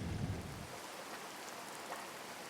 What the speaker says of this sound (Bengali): হ্যাঁ বৃষ্টি পড়ছে তো, মারাত্মক বৃষ্টি পড়ছে